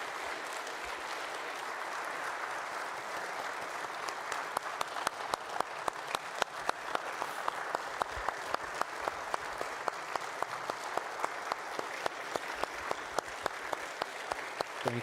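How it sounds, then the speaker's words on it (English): Audience at a talk applauding, broad steady clapping from a crowd that builds and continues for the whole stretch with a few sharp nearer claps standing out, no talk over it. "Let's give a warm round of applause and gratitude."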